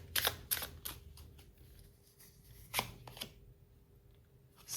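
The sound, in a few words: drawing a card from a tarot deck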